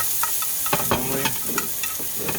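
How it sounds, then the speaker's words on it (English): Raw meat and a vegetable mix stir-fry in a pan for crispy two-sided noodles, giving a steady close sizzle broken by a few sharp scrapes and clatters of the spatula, with no talking. "Now we're gonna cook the meat and the vegetable mix to put on top"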